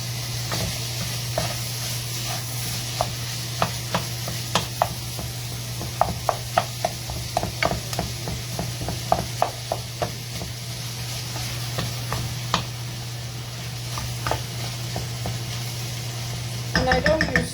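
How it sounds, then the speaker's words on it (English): Minced meat stirred with masala spices in a cooking pan gives a steady low sizzle beneath repeated scraping and clinking strokes of the spoon, close and moderately loud, with no talking. "I'm just stirring in the mince now and letting all the masalas get absorbed into the mince"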